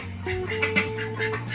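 Ducks quacking in a short burst of several overlapping nasal calls, close and moderately loud, with a steady low hum underneath.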